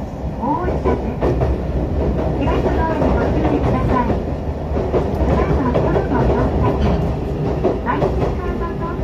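Riding inside a JR 813 series electric train between Usuki and Oita in Japan: a steady low rumble with rhythmic rail clicks, and voices heard faintly in the carriage.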